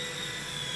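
Silverlit Metal Copter toy RC helicopter flying indoors, its steady high-pitched rotor and motor whine close by and continuous, alone with no talk.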